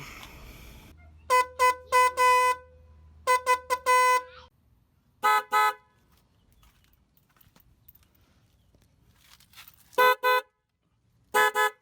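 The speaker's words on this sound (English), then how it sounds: "This is the stock horn on the Stratoliner." The stock horn on a Yamaha Stratoliner motorcycle sounds in short bursts, mostly in quick pairs and triples, with a brief engine hum near the start and quiet gaps between honks.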